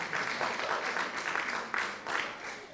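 A church congregation claps steadily in a dense, continuous patter that swells briefly near the end, with no voices standing out.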